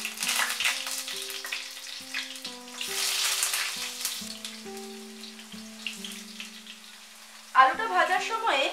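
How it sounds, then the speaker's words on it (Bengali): Diced potatoes fry in hot mustard oil in a kadai, a steady soft sizzle under background music tones, with a louder burst of crackling near the end. "এবার আমি কড়াইতে তেল গরম করেছি, সর্ষের তেল। এর মধ্যে আমি ডুমো করে কেটে রাখা আলু ফ্রাই করে নেব।"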